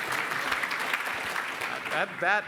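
Audience applause at a youth movement conference, a brief burst of clapping that swells over a couple of seconds, with voices rising near the end.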